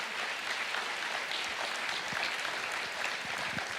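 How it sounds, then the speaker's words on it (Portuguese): A church congregation applauds, sustained crowd clapping that stays fairly loud and uniform, with scattered sharper individual claps standing out in the dense texture. "Pode aplaudir o Senhor."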